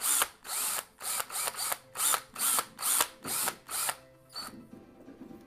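A power drill bores into a 2017 Ford F-150 grille emblem in close, loud bursts. About nine short whirring pulses run in steady rhythm, then the drill winds down into quieter mechanical rattles.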